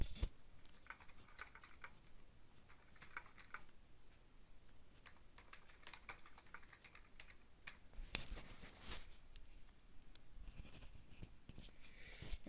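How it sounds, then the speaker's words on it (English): Faint, rapid clicking of keys on a computer keyboard, typed in irregular bursts close by with no one talking. "And I'm going to go ahead and type in guardianship and children."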